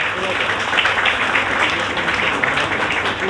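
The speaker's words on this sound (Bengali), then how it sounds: "একটু করতালির আবেদন করবো" Audience applause at a Bengali school cyber-awareness event hosted by administration officials, a steady dense wash of clapping that holds at an even level throughout without pause, with no voices rising above it.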